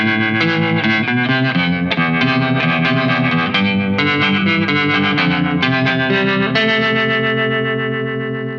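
Guitar played through an Anasounds Ages harmonic tremolo pedal, with shifting chords and a pulsing, swirling modulated tone, loud and continuous with no talking.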